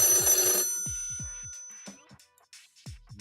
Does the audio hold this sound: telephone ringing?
yes